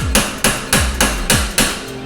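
A hammer strikes an ATV rear axle bearing six times at a steady, even pace, each blow a sharp, loud metallic clank with a short ringing decay, no talking.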